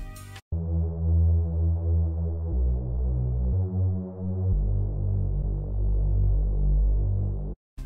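A deep, sustained synth bass runs through a 24 dB low-pass filter with its cutoff near 600 Hz, giving a dark, buzzing throb that shifts pitch in a few held notes and plays steadily and alone.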